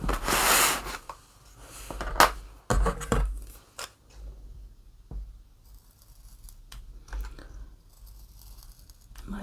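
Scissors snip and cut through material while a custom cover is crafted for a fisherman's basket, giving close, crisp irregular cuts with short pauses between them and some rustling of the material.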